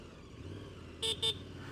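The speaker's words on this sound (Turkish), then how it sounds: "Mutlaka korna çalın." A car horn gives two short, fairly loud beeps while a car drives on a quiet road, set against a low, steady hum of the engine and tyres.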